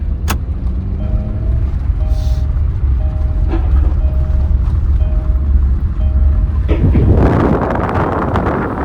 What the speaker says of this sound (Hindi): आवाज़ तो आने लग गई उन ट्रकों की।